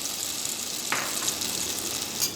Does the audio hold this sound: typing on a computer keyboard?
no